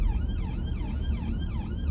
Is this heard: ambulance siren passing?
yes